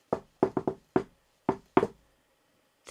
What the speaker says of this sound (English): He checks nobody's watching and knocks a coded knock.